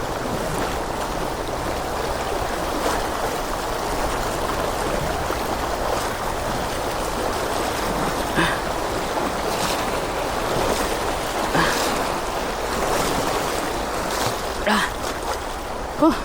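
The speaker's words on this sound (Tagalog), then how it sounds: "Lakas ng agos eh." A strong river current rushes past at a riverbank crossing, a dense, steady roar of churning water with wind buffeting the microphone and occasional louder splashes near the end.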